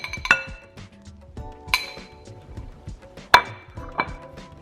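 Pasta is added to a glass bowl for a cold tuna pasta salad with gluten-free noodles, giving several sharp glassy clinks and clatters spaced irregularly over soft scraping, close and fairly loud, with no talking.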